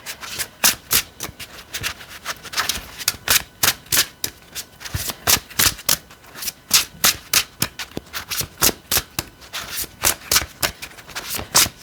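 Tarot cards being shuffled by hand, a steady run of crisp riffling slaps repeating every fraction of a second, close and loud, with no talk over it.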